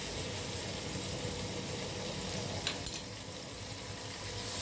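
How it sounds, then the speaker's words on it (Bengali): Potato and sweet pumpkin fry together in a pan over medium-high heat, giving a steady, close hiss of sizzling oil with a brief clatter midway. "আলু আর মিষ্টি কুমড়ো একসঙ্গেই ভেজে নেব।"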